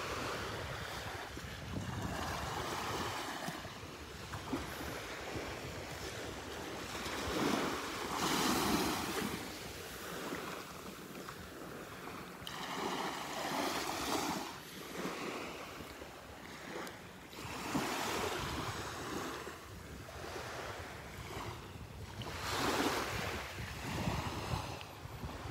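Ocean surf washes in repeatedly on a sunny beach at Delnor-Wiggins as the tide comes in, with broad rolling swells and wind buffeting the microphone, steady and fairly loud throughout with no talk.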